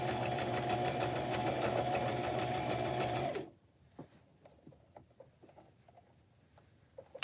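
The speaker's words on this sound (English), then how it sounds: "I do crazy sewing around the edge to give it some more zhuzh" A sewing machine runs fast and steady, stitching decorative lines around the edge of a soft cover made from an Amazon mailer, then stops abruptly, leaving faint handling clicks and rustles.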